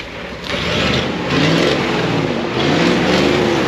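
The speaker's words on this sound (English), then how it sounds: "He had to keep the revs high so it wouldn't just die again" A stalling truck, just coaxed back to life, is held at high revs: a loud, steady engine roar that swells in surges, close by with no talk over it.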